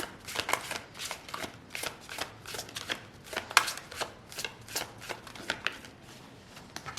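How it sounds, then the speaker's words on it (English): Tarot cards are shuffled and pulled in a quick, crisp run of riffling flicks and slaps, steady and close throughout. "Let's pull one more card for group 3."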